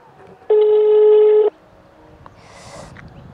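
A telephone tone sounds on loudspeaker as a single steady beep lasting about a second, followed by quiet room noise and faint background sounds.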